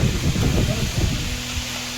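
Spices crackle and sizzle in hot oil, tempering for a potato curry, a dense hissing frying sound heard close up for a couple of seconds with a voice faintly underneath.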